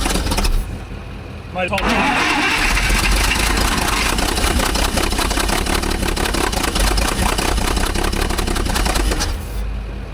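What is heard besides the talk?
Allis Chalmers forklift engine starting and running on propane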